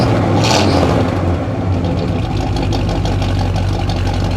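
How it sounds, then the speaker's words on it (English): A 1968 Pontiac GTO idles steadily through its dual exhaust, a loud, close, low rumble with a deep, even burble and no voices. "It's got that nice GTO sound coming out of the dual exhaust"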